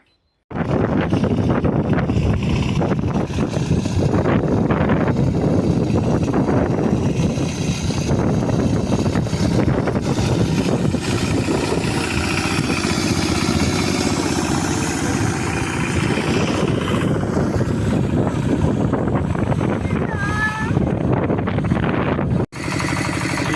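Walk-behind tractor (motoblock) engine working steadily in a field, a loud continuous mid-low rumble that holds throughout before cutting out briefly near the end.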